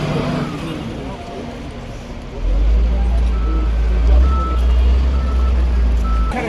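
A truck sounds its reversing beeps at roadworks clearing a drain along the Jammu-Srinagar highway. The steady tonal beeping sits over a loud low engine rumble that rises partway through, with voices in the background.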